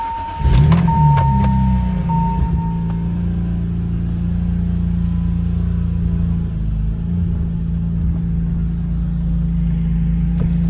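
A Mercedes car being moved on a snowy day, its engine starting with a brief rev and then holding a steady, close, continuous rumble throughout, with no talking.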